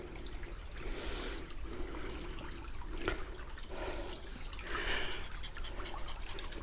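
A dog splashes and paddles in a shallow stream on a countryside walk, steady water trickling and sloshing close by throughout, with no talking.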